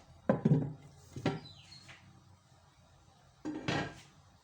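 A clay tagine pot knocks and clatters as it is brought over and set down, a few sharp ceramic clunks with a final heavier placement near the end, close and fairly quiet.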